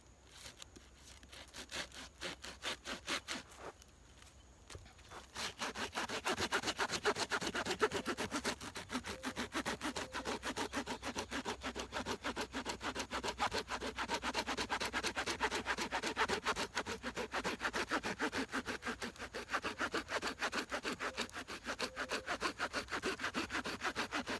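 A small folding saw cuts through a roughly two-inch piece of dried pine. A few slow, light strokes give way to fast, steady, rhythmic rasping back-and-forth strokes that continue for about twenty seconds, close up.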